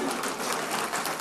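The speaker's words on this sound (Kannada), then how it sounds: "ಕೇಳಿದರೆ ಒಂದು ಚಪ್ಪಾಳೆ ಹೊಡೆದು ಬಿಡಿ" Steady applause from a crowd fills a short stretch, dense and fairly loud, at a comedy speech event.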